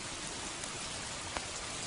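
Steady rain falls in a continuous soft hiss, even and fairly quiet, with no voices.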